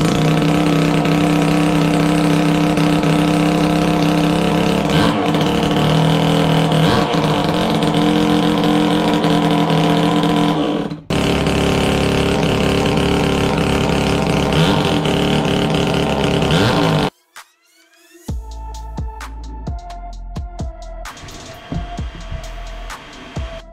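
A homemade jet drive's two-stroke twin-cylinder engine runs loud and buzzy for about seventeen seconds, with brief dips, then cuts out, leaving quieter scattered clanks and knocks.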